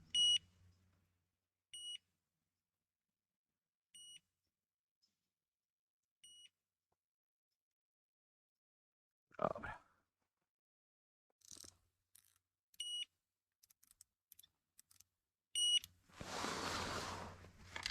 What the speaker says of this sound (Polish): No sygnalizator pipczy.